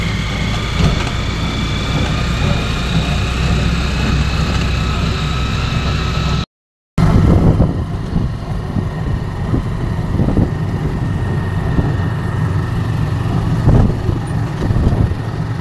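A motorcycle tricycle engine drones steadily as the ride goes on, loud and close, with a low rumbling hum and passing traffic, broken by a brief cut midway.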